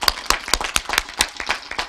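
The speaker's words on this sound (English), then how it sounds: "let's give them a clap" A graduation ceremony audience at Taos High School claps in a dense burst of rapid, overlapping hand claps, loud and close, with no talking.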